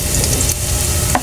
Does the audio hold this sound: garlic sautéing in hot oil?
yes